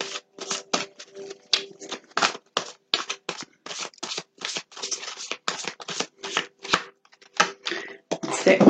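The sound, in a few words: shuffling tarot cards to pull a card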